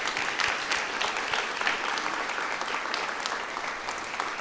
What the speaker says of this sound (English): So you all deserve a huge round of applause